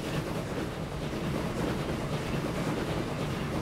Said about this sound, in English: Here comes the final run of this train.